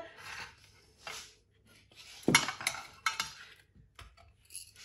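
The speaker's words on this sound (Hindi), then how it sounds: "ये आपने ऐसे कद्दूकश कर लेना है इसको" Vegetables such as carrot and cabbage rasp against a hand grater for tikki in uneven scratchy strokes, close and fairly quiet, mixed with light metallic clinks and no talk.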